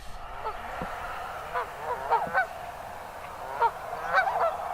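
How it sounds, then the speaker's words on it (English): Geese honk repeatedly in scattered bursts over a steady outdoor background at a national wildlife refuge, several calls overlapping at moderate distance. "And here comes the big old geese."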